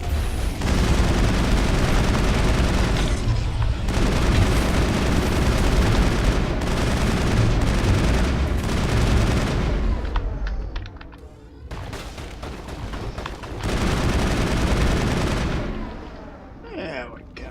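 A firefight in the video game Mass Effect: heavy, sustained gunfire and booming blasts fill most of the stretch, then break into shorter bursts separated by brief lulls before firing resumes.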